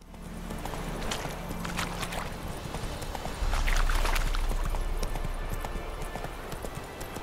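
Steady clip-clop of Roach the horse galloping in The Witcher 3, rhythmic hoofbeats close and clear over a low rumbling game ambience, growing heavier partway through.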